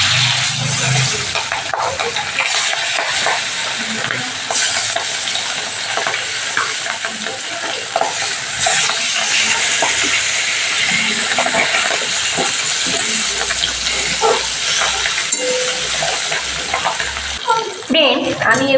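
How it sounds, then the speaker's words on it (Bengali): Pabda fish frying in oil in a kadai, a loud, dense, continuous sizzle with occasional stirring and scraping clatter, close up and steady throughout. "সেই পাবদা মাছগুলো আমি তেলের মধ্যে দিয়ে এক এক করে ভেজে"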